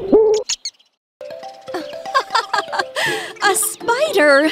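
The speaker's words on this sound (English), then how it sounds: "Hop Hop the owl." A cartoon owl gives short hoots and calls between stretches of lively animated voices and chirpy sound effects in a children's show.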